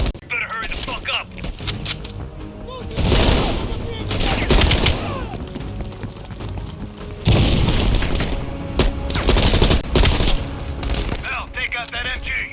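A heavy machine gun fires from a ridge in the Black Ops Cold War campaign, with loud, close bursts of rapid fire and booming impacts in several waves and brief lulls between them.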